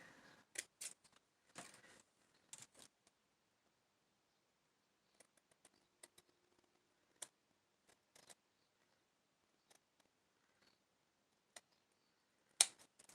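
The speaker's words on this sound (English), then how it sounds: "Maybe I'll cut this one down and do a skinny little lace" Scissors snip through lace trim for junk journal embellishments, a cluster of quick close cuts at the start followed by sparse, faint isolated snips and small handling clicks, with a sharper snip near the end.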